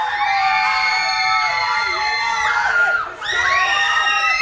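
A crowd of students at a Christian youth event scream together in a contest, a loud sustained mass of high-pitched shrieks and yells that dips briefly near the end before surging back.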